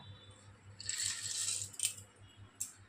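Peanuts pour into a pan of flattened rice on a low gas flame with a short, light rattling patter and a few sharp clicks, quiet and close, with no talking.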